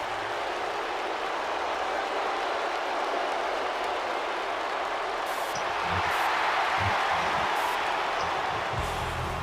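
A continuous crowd roar from an arena audience in the wrestling video game WWE 2K19, a dense steady cheer swelling slightly midway, with a few thumps beneath.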